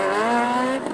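A Kawasaki H2 motorcycle revs hard for a wheelie at a morning riders' meet-up near a bridge, one loud, close rising engine wail with a steady harmonic buzz.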